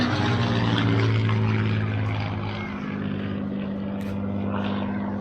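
A Hawker Hurricane propeller fighter passes over a beach near RAF Coningsby, its deep piston-engine drone loud and steady and then slowly fading, with no talk.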